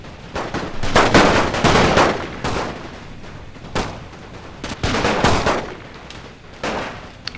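Massed soldiers fire muskets in a Napoleon Total War battle, a WWI-era mod with Belgian troops, in repeated rolling volleys of loud crackling gunfire that swell and fade over several seconds.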